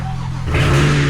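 A BMW F95 X5 M engine, unstarted for about six months, catches and revs up, rising from a low rumble into a louder, steady roar within about a second.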